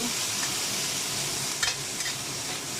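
Pork in coconut milk for Bicol Express sizzles steadily in a pan. A constant hiss is broken by a few brief clinks of stirring, with no talking.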